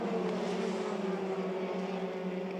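Formula 3 race cars of the FIA F3 European Championship at Spa's Pouhon corner, a steady distant engine drone as the cars sweep through, faint and continuous with no voices.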